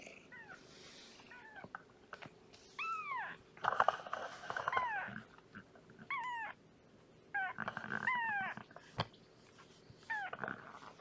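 A cat meows several times in short, rising-and-falling cries, spaced out over a quiet background, fairly soft and close.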